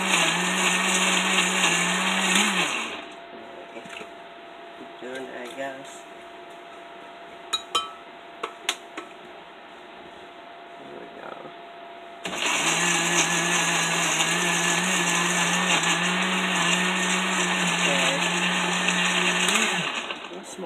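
A small blender whirs loudly as it purees honeydew melon into sorbet, running in two long bursts with a quieter stretch between, where glass and utensil clinks and brief speech are heard.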